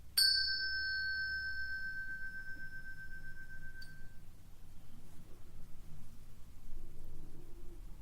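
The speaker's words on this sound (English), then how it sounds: "marking the start and the end of the practice with the sound of a bell" A single bell is struck to open a meditation practice, giving one bright ringing strike that sustains and fades over several seconds above a low steady background hum.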